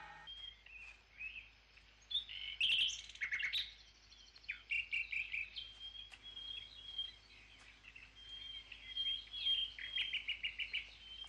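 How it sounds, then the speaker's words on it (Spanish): Birds chirp and twitter in the summer mountains, with bursts of varied high calls and trills that come and go through a faint background of insect noise. "En la montaña, las aves crían en pleno verano."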